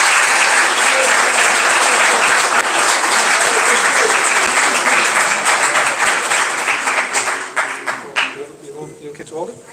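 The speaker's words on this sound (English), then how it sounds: "a round of applause." An audience claps warmly to welcome a young speaker to the stage, a dense sustained applause that thins into scattered claps and fades out near the end.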